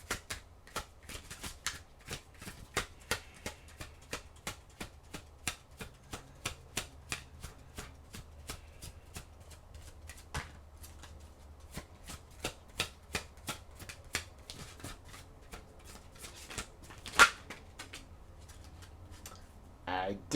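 Oracle cards being shuffled in a quiet room, a long run of crisp, rapid riffling clicks and flutters with a sharp snap near the end, close and fairly soft, with no talking.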